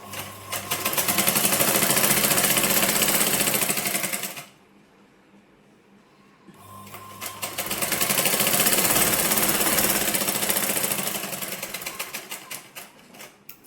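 A sewing machine stitches a blouse in two long bursts of rapid, even needle chatter, loud and close, separated by a brief quiet pause around the middle.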